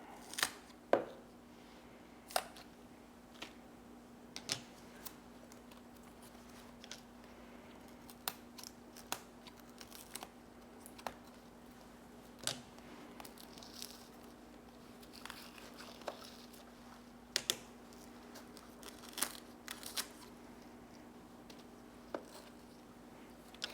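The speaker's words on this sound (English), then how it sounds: "Okay, this we're gonna cut off, that leaf there." Scissors snipping a leaf off an Alocasia plant, a series of faint, sharp clicks and snips at irregular intervals over a quiet room hum.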